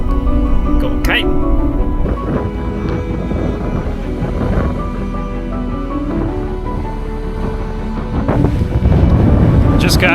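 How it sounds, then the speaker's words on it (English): Strong wind at a kitesurfing beach batters the microphone with heavy, continuous rumbling gusts, loud throughout and surging near the end, while a person talks beneath the roar. "The wind is going crazy right now"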